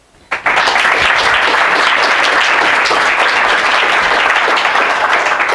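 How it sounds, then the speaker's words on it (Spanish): Sustained applause from an audience welcoming a speaker to a talk on trauma myths, starting abruptly after a brief quiet moment and holding steady and loud throughout. "un aplauso por favor para Ramón."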